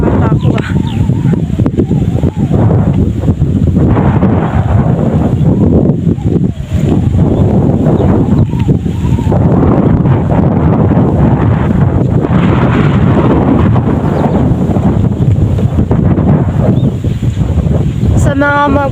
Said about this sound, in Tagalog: Kasi kung maririnig nyo, ang lakas talaga ng hangin.